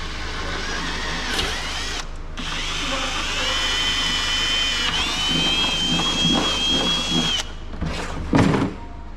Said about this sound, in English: Drilling into our antique igloo cooler.